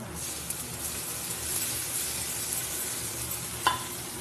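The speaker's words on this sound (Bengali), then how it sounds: "দিয়ে ভালো করে কিছুক্ষণ ধরে নেড়ে চেড়ে নেবো" Okra and onion fry in a pan with a paste of mustard, turmeric, chili powder and a little sugar, giving a continuous soft sizzle as the mix is stirred, with one sharp scrape of the spoon near the end.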